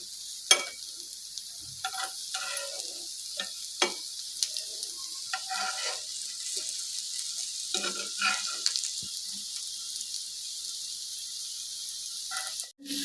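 Capsicum snacks fry and roast in an oiled pan with a steady, bright sizzle, broken by frequent scraping stirs and occasional sharp crackles, close and continuous throughout.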